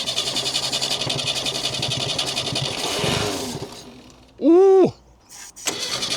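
Old French classic car, unused for 26 years, cranking over then briefly catching with a loud sputtering burst before dying, followed by a short second attempt; an exclamation is heard.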